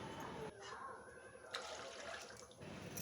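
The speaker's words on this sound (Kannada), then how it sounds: "ನೀರು ಸೇರಿಸ್ಕೊಂಡು ನಿಮ್ಗೆ ಎಷ್ಟು ನೀರು ಬೇಕೋ ಅದಕ್ಕೆ ತಕ್ಕಷ್ಟು ನೀರು ಸೇರಿಸ್ಕೊಳ್ಳಿ" Water is poured into a simmering bale unde saru, a lentil dumpling curry, heard as a faint splashing trickle with brief gaps.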